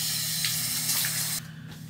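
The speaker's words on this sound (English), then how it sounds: "Wash my face." Water runs steadily from a bathroom tap during a face wash, a close, continuous spraying hiss that drops to a quieter trickle near the end.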